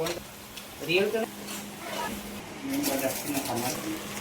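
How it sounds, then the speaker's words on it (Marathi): Potatoes and brinjal hit a hot, oily spice tempering and sizzle steadily throughout, with a person talking over the frying. "आता फोडणीत टाकून घेऊ मस्त आलू वांगे."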